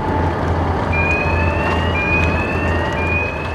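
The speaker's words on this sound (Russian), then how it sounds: "Сирена, включенная намеренно," A siren wails with a rising, repeating tone over loud engine rumble and road noise, fairly close.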